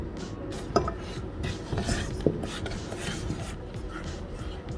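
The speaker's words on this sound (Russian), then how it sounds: "Хорошо размешаем и ставим кастрюлю на небольшой нагрев." A spoon clinks and scrapes around a saucepan while stirring a chocolate glaze of cocoa powder, milk and butter, with steady close stirring and occasional metallic taps.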